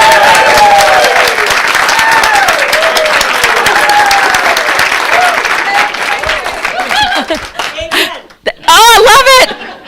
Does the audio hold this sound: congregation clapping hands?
yes